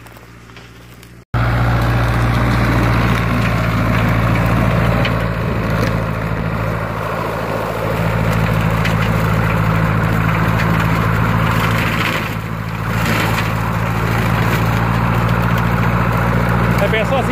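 A tractor engine idles with a rotary mower attached, a low steady rumble with a constant hum that starts abruptly after a brief quiet moment and runs on loud and close, dipping slightly midway.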